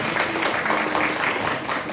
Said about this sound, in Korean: 오늘 열정적으로 강의를 해주신 와이즈맨 허진호 의사님께 다시 한번 여러분들 박수 부탁드리겠습니다